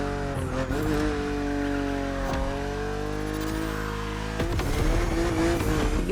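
A BMW Z4 E89 coupe cabriolet driving in The Crew Motorfest, its engine droning steadily with pitch rising and falling through gear changes, close and continuous.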